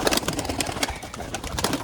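A pigeon coos close by in a soft, steady run of throaty calls lasting under two seconds, with no voices.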